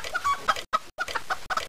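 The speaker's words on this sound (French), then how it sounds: "vous allez devoir attraper une ou plusieurs poules en vous aidant uniquement du son de leur caquettement" A chicken clucking in a video game mini-game where hens must be caught by the sound of their clucks, a steady run of short clucks in quick bursts, clear and alone.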